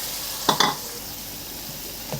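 Cooked goat meat drops into a hot pan for an aloo gosht curry, giving a couple of sharp sizzling scrapes of stirring over a steady background hiss of frying.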